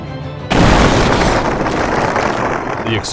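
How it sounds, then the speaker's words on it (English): A vehicle explodes during CNG refueling in a sudden loud boom, then a sustained roaring rush of burning gas and wind noise continues for several seconds. "The explosion occurred during CNG refueling, the moment of highest gas pressure."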